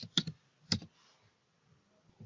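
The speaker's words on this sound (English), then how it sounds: "Type in your first name." A computer keyboard gets a few quick keystrokes, two close clusters of sharp clicks followed by faint scattered taps, quiet and close with no voice.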